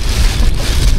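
Light drizzle pattering down around a small fishing boat on open water, a steady soft wash of drops mixed with gusty wind buffeting the microphone, continuous and close with no talking.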